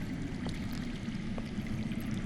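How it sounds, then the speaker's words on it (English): Underground water flows as a soft, continuous low rushing murmur, faint and distant with no voices over it. "I hear water. From underground."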